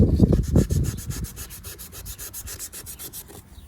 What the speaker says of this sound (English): Take a 3M Scotch-Brite, polish it up a little bit.